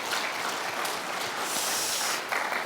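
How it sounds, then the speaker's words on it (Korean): Church congregation clapping together at a Sunday worship service, a steady, dense wash of applause filling the sanctuary, fairly loud and continuous, with a brief swell near the end and no speech. "그분들에게도 고맙다고 박수 한번 하겠습니다."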